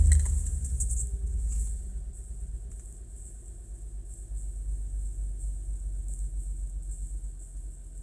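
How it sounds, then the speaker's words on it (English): A 2000 Nissan Maxima with a misfire starts, its engine catching in a brief surge before dropping to a low, steady idle rumble with slight pulsing, heard from close by without talking. "Now I'm going to start the car."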